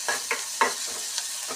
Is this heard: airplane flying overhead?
no